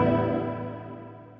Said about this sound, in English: spring reverb